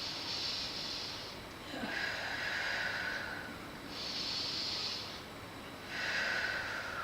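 Slow, deep breathing during a kinesiology relaxation exercise: three long, close breath cycles, each an airy inhale and exhale with steady rhythm and no talk.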